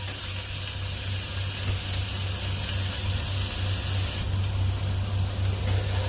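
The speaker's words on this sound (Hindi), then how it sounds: "तो अभी सबसे पहले इसमें डालूंगा क्रश गार्लिक" Crushed garlic sizzles in hot olive oil in a wok, a steady loud hiss with a constant low hum beneath, unbroken and close throughout.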